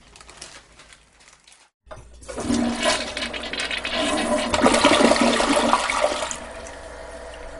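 A toilet flush sound effect: a sudden loud rushing gush of water after a brief silence, swirling and draining for several seconds before tapering off, with no talk over it.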